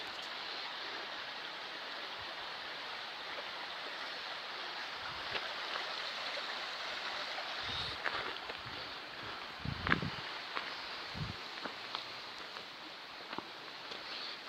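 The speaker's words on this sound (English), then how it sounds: "Nice part of the river there." A mountain river runs beside a hiking trail, giving a steady, moderately loud rush of flowing water with a few low thumps and bumps from nearby. No voices.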